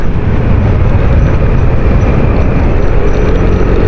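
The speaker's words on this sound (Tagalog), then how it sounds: "Yun yung tunog ng makina," A Yamaha Aerox V1 scooter engine idles steadily after a top overhaul, a loud, close, continuous rumble that stays even throughout with no voices.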